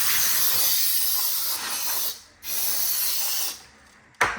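Short blasts of compressed air hiss from a spray can as dust is blown out of a 1960s Remington Riviera typewriter. Two long loud bursts come first, then a brief sharp puff at the end.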